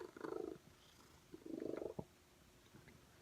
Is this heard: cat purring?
yes